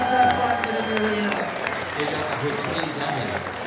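Applause and crowd noise at a beetleweight robot combat event, with clapping from the arena audience mixed under voices and sustained tonal sounds, short and fairly loud.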